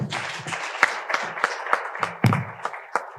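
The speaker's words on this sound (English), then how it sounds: "A round of applause again." Scattered audience clapping at a university anniversary celebration, a few distinct nearby claps standing out over lighter applause for about three seconds.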